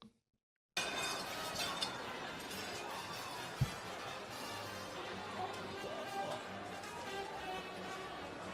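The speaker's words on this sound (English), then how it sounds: "You hear this shattering?" Glass shattering and breaking, heard as a burst of crunching, tinkling fragments right after a brief silence, followed by a noisy continuous wash of sound with one sharp thud partway through.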